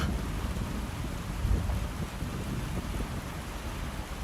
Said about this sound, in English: The rain's blowing in, man. The rain is blowing in!